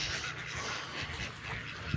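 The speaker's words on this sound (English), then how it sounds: "There's our ducks there in the back." Farm ducks quack faintly in the background among other farm animals, a few soft calls over a steady hum from a window fan.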